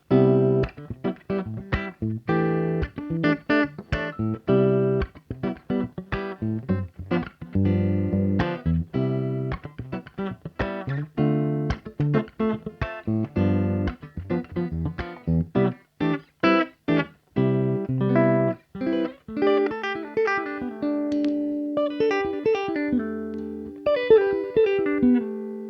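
Godin 5th Avenue archtop guitar on its bridge P90 pickup, a long run of brisk strummed chords and single picked notes, brighter and cutting, close and steady, with no talking.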